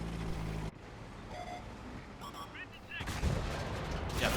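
Tank cannon fire in the online game World of Tanks, a loud booming shot at the start that cuts off sharply, followed by quieter game noise and brief tonal effect sounds, with a second burst of action late in the clip.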